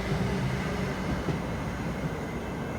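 A light rail train rumbles steadily nearby with a constant low roar and no voices, holding at the same level throughout.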